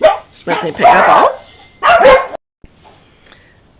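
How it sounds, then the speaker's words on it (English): Puppies bark and yip in short bursts nearby, loud and overlapping with a person speaking, then fall quiet. "The puppies heard somebody drive by, so you may hear them talking in the background."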